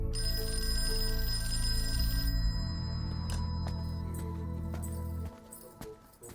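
A telephone ringing tone repeats in steady pulses, fairly quiet, then cuts off near the end with a few faint clicks.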